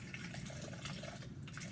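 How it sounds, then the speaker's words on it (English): About 100 milliliters of water poured into an airbag test container, a quiet continuous trickle and gurgle over a low steady background. "So I'm adding another 100 milliliters of water."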